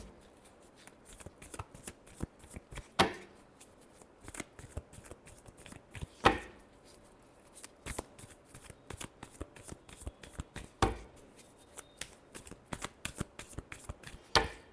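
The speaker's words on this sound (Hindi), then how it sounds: "Last shuffle." Tarot cards are shuffled by hand in a steady run of soft riffling and flicking, broken by a few louder card-snaps spaced several seconds apart, with no voice.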